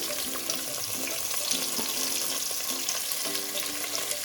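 Long-sliced onions sizzle in hot oil in a pan, a soft continuous fry broken by light clinks and scraping of a spoon stirring them.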